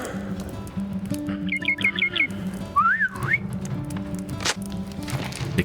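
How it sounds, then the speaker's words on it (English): Short bright whistle notes blown in the game LOTRO, a quick run of five chirps followed by a rising slide, over a steady low game ambience with birdlike tones. "Awesome, now we can use the whistle"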